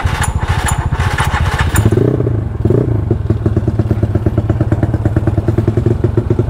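A Yamaha Mio 200cc scooter rated at 25 HP, orange paint, starts up close by and settles into a loud, steady, rapid-pulsing idle after a brief clattering crank.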